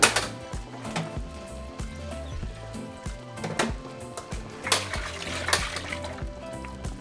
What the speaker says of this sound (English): I'm going to add about half a cup of water in my blender